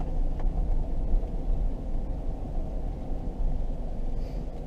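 A heavy 2004 Chevy Tahoe snakes around a course of pylons, its engine and tires giving a steady low rumble with no break throughout.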